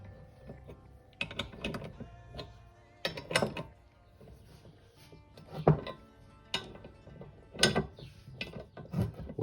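Metallic ratcheting and clicking as a 19 mm wrench tightens a bolt on the front wishbone of a Lotus Elise S1 during suspension refurbishment, in several close, irregular bursts of clicks.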